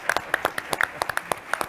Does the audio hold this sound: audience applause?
yes